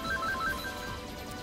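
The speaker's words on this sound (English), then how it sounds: "oh man, the phone's ringing" A telephone rings in a room as a faint electronic trill, several short repeated tones over about the first second, alone with no talk.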